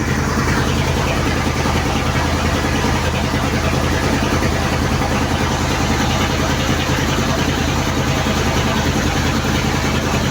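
An unloaded tanker truck from Cebu overtakes on the road, its steady, loud engine drone and road rumble filling the whole stretch without pause and with no talking.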